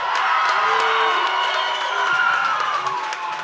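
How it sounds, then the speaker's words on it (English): A large crowd at a combat sports event cheers and applauds loudly and continuously for the main event competitors, with shouts and whoops mixed into a steady roar. "one more round of applause for our main event competitors tonight."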